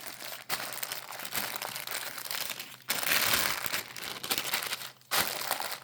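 Plastic wrap crinkles and crackles steadily as it is pressed down over a pan of Rice Krispie treats, close and fairly loud, with brief pauses and two louder crumpling bursts.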